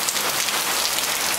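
Heavy rain pours steadily during a rainy spell in Thailand, a dense, even hiss of drops drumming on surfaces close by, with no talk and no pauses.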